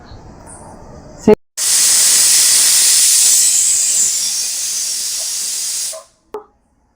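Pressure cooker whistle venting steam while chicken kulambu cooks, a loud sustained hiss lasting several seconds after a sharp click, then cutting off abruptly, with brief voices around it.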